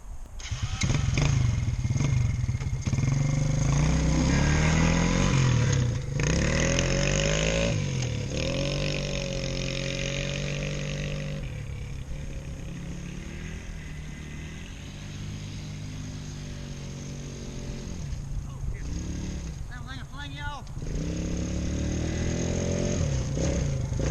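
An ATV engine runs while the quad is ridden around, revving up and easing off repeatedly, with the pitch rising and falling as it accelerates and slows, fairly close and without talk.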